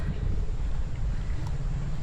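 Strong, gusty wind of an approaching typhoon buffeting the microphone in a flood-hit village in Bocaue, Bulacan, a loud, constant low roar with no break.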